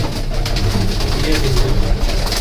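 Pigeons coo steadily and close by, a low, throaty murmur layered over itself, continuous without a break.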